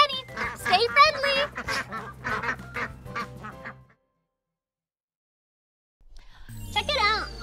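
Cartoon ducks quack in a rapid, bright run from a children's nursery-rhyme show, mixed with childlike voices, then a few seconds of silence before more quacking and voices return.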